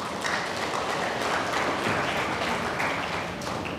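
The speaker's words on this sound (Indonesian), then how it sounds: "kita tepuk tangan" Church congregation applauding during a Batak-language service, a steady dense wash of clapping filling the room for the whole stretch, moderately loud with no clear pauses.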